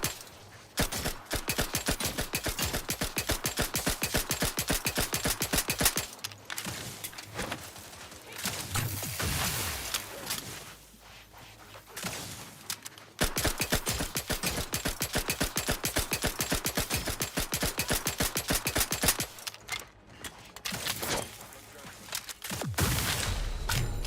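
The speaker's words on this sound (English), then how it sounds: "Why was that my gun not reloaded?" Rapid automatic gunfire in The Outer Worlds 2, long loud bursts of evenly spaced shots broken by short pauses, with mechanical game sounds in the gaps.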